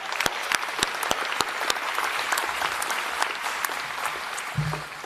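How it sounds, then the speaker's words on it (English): Applause from an audience at the 2025 Ockham New Zealand Book Awards ceremony, a dense steady wash of clapping sustained throughout with a few sharper individual claps standing out near the front. "Another round of applause."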